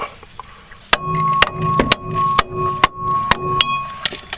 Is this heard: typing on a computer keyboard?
no